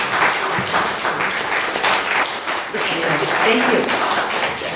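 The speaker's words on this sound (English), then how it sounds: "can we give them a round of applause?" Applause from a Windward Buddhist Temple audience honoring Project Dana volunteers at a Dana Day service, a steady wash of clapping that runs the whole time under a nearby voice speaking briefly.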